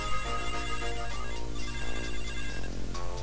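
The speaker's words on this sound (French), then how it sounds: "Téléphone." A telephone rings in a Titeuf cartoon, a steady electronic ringtone playing continuously, loud and alone without any voices.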